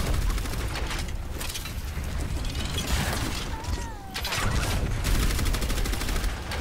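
Rapid gunfire clatters continuously against a shield barrier in the hero shooter game Overwatch, a dense mechanical rattle of impacts that stays loud throughout with only a brief dip in the middle.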